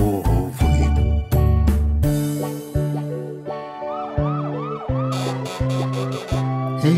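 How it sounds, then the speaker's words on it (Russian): A cartoon police car siren from a children's song, a loud rising and falling wail over bright musical tones that repeat in a steady cycle with no voices. "Я полицейская машина, еду на объезд вокруг"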